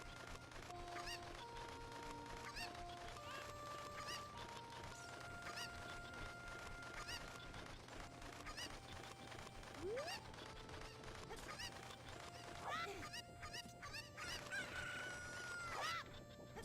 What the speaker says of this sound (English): Link messing with the chickens.